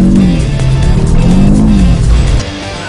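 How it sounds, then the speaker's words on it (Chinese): A Honda CR-V SUV accelerates hard and slides into a drift, its engine droning loud and close with a rising and falling tone over tire noise, the sound dropping off near the end. "踩油门，他直接进入甩尾模式，再踩"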